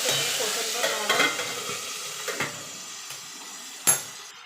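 Pabda fish frying in hot oil, two pieces at a time, gives a steady close sizzle with a few sharp spatters and utensil knocks breaking through, and no talk.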